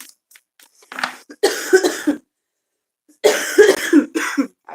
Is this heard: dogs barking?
no